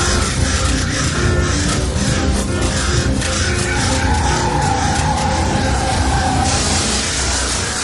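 A car skidding in an accident on a road, with a loud continuous rush of tire and engine noise and a drawn-out squeal near the middle, dense and harsh throughout with no talk; no distinct crash impact stands out.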